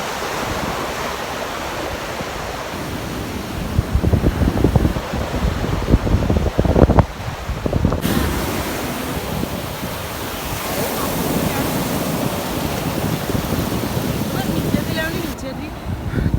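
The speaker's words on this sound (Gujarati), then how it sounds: "મોજા પણ તમે જોઈ શકો છો" Sea waves roll and wash onto a beach at high tide, a loud continuous surf with gusting wind noise buffeting the microphone and a voice talking faintly at times.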